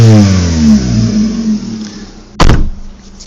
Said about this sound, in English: what my exhaust power pipe sounds like after I installed it on my new Fiat